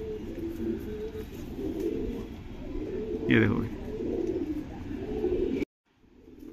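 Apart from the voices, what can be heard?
pigeons cooing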